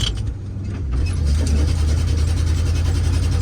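A 1968 IH Fleetstar 2010 truck running in second gear, its engine a loud steady low rumble that firms up after the first second and continues evenly inside the cab.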